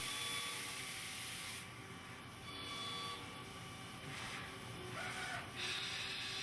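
An industrial lathe severs a finished section from a large workpiece during a cutoff operation, producing a steady, dense, hissing machine drone with slight dips in level, close and continuous, with no voices.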